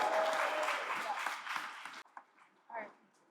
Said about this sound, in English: Round of applause for my grandma.